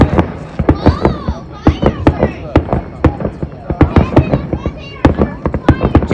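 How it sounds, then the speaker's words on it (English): Fourth of July fireworks bursting in rapid succession, sharp loud bangs and crackles in an irregular barrage with children's voices and chatter in the background. "So guys, we are now waiting for the fireworks."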